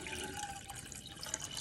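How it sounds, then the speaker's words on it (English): Egg foo young gravy mixture is poured from a bowl into a pan, a close continuous liquid splashing and trickling that stays fairly even throughout, with no talking. "go on ahead and pour that into your pan."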